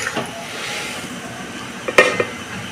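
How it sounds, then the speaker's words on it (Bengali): Goja, crisp Bengali dough pastries flavoured with black cumin, fry slowly in hot oil while being turned, giving a soft steady sizzle with a brief sharper crackle near the end. "আমি উল্টিয়ে উল্টিয়ে আস্তে আস্তে ভেজে নেব সব।"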